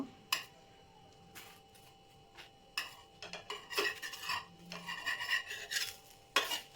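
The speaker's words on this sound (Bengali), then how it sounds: "এটা আরও ভাজ করে নেব খুন্তি সাহায্যে করে ভাজ করে নেব" Coconut-filled pitha folded over with a spatula on a lightly oiled tawa, heard as several close rasping scrapes and short metallic rubs in irregular bursts, with quieter gaps between, no talk.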